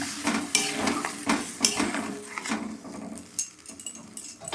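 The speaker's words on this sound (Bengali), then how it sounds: "উষ্ণ গরম জল দিলাম, দিয়ে নেড়ে দিলাম" A utensil stirs a Bengali rui fish curry with potatoes and bori after warm water is added, giving close scraping strokes and soft clatter over a light simmering hiss.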